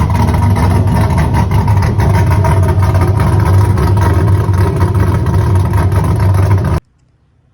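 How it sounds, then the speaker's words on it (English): A Nissan 370Z-swapped Lexus IS300 engine runs loud and close with a rough, rumbling idle, continuous until it cuts off abruptly near the end. "here's a quick sound clip of what the motor may sound like"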